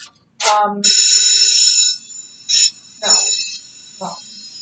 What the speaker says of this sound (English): That's the late bell.